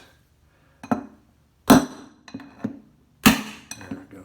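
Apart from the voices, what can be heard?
hammering out a front load washer drum bearing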